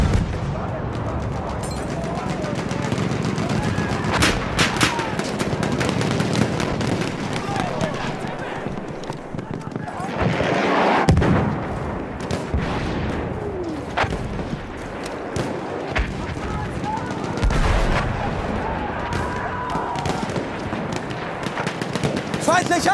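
Enemy artillery and gunfire rumble through a World War I battle in Battlefield 1 at St. Quentin Scar, a continuous loud barrage of booms and cracks with shouted soldier voices over it.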